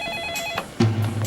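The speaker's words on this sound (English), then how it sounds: "the phone rang." A telephone starts ringing with a sudden bright electronic trill that enters after a short stretch of faint background tones, close and clear.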